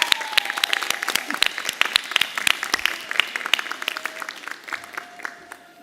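Pharmacy students and the audience at a white coat ceremony clap for their families, a lively burst of sharp individual claps with a voice speaking over it, tapering off toward the end.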